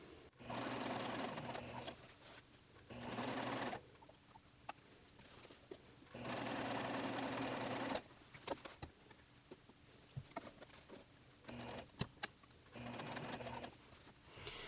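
A sewing machine runs in several bursts of a few seconds each as it stitches a muslin sleeve cap, with quiet pauses between runs and faint handling clicks, fairly soft and close.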